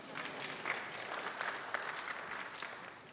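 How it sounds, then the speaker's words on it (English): Small audience applauds steadily for about three seconds, a soft, even patter of many hands clapping at a moderate distance with no talking over it. "Selena, you can applaud, it's okay."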